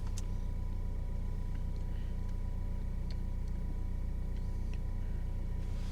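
A Mercedes S63 AMG engine idles steadily at low volume, a constant soft rumble with a few faint ticks, no voices.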